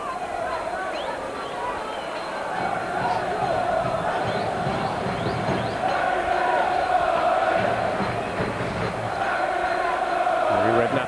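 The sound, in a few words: Portsmouth football crowd cheering at Fratton Park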